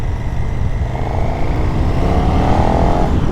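A 2023 KTM 1290 Super Duke R, third version, being ridden on a test ride, its engine a loud, steady drone close to the microphone with a rising tone near the end.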